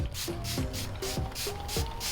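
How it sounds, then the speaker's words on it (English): A leave-in conditioner spray bottle with coconut milk and nettle gives a run of about seven quick, close hissing bursts onto hair, with faint pump squeaks between sprays. "And all I'm going to do is just go ahead and spray this all over my hair"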